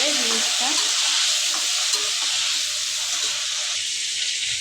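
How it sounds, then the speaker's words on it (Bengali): Cauliflower and potato pieces with salt and turmeric fry loudly in a pan, a dense, close hiss of sizzling oil running throughout with soft stirring scrapes underneath. "সামান্য পরিমাণ হলুদ দেওয়ার পরে ভালো করে নেড়ে"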